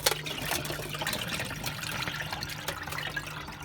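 Water poured out of a washing machine drain hose on an AEG Silent System plus 86850 washer, a steady trickling, splashing flow heard up close with no talking.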